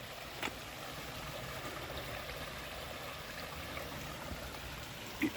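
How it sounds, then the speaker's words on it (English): Eureka Creek, a small Appalachian Trail stream, flows steadily with a soft, continuous trickling wash, faint and even throughout, with a couple of small splashes. "beautiful little stream here. Eureka Creek. If you need water, this is a great place to get it. It's flowing pretty steadily."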